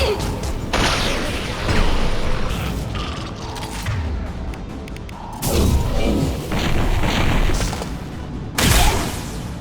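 Explosions and crashing booms from the Mass Effect video game come in several loud bursts among mechanical clanks and rumbles.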